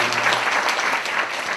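Brief burst of congregation applause at a church service welcoming guests, dense, steady clapping with no speech over it.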